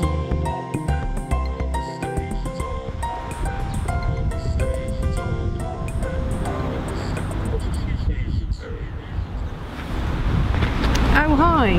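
Strong outdoor wind buffets the microphone at Corfe Castle railway station, a constant low roaring rumble throughout, with faint muffled voices mixed underneath.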